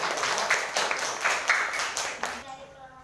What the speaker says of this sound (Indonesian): silakan beri tepuk tangan untuk kelompok